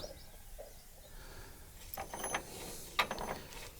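Gears engage with a few brief metallic clicks and clunks inside a Shifeng 354 tractor gearbox under repair, heard close over a low background hum.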